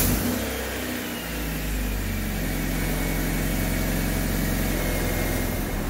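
Car engine running steadily after a coolant change and radiator flush with new silicone hoses, a continuous low rumble with a slight rev near the start, close and alone without talk.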